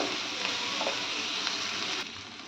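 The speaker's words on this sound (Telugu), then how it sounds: "పచ్చివాసన పోయేదాకా వేయించుకుని" Bay leaf, cloves and a piece of cinnamon fry in hot oil in a pan, a steady close sizzle with faint stirring scrapes, no talking.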